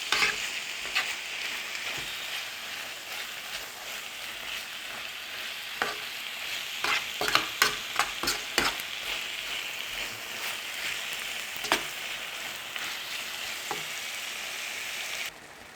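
Ground meat filling for stuffed batbout fries in a pan, a continuous close sizzle broken by clacking stirs and scrapes of the spoon, with a cluster of sharper knocks midway and no talk.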